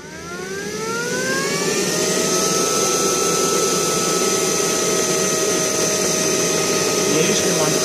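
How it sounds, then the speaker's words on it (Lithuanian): A Neato Botvac Connected robot vacuum cleaner spins up to start cleaning, its motor whine rising in pitch over the first two seconds and then holding as a loud, steady drone with a broad airy rush underneath. "dabar dulkių siurblys pradės valymo procesą"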